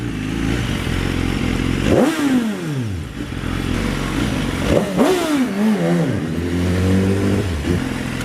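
A BMW S1000RR HP4 sport motorcycle on the road, engine note rising and falling through two sharp throttle blips and gear changes. A steady loud drone with wind noise runs under it, and nobody speaks.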